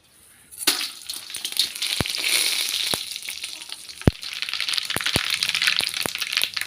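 Mustard seeds, urad dal and fenugreek crackle and sizzle in hot oil, with sharp pops scattered over a continuous frying hiss that starts abruptly and stays steady.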